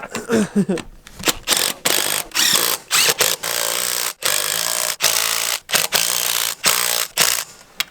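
A wrench ratchets and tightens bolts on a Polaris Predator sport quad found in a barn, giving repeated bursts of loud, close clicking separated by short gaps.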